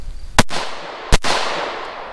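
Two sharp, loud pistol gunshots during a close-quarters defensive shooting drill, spaced under a second apart, each a crisp crack with a short ringing decay and nothing else in between.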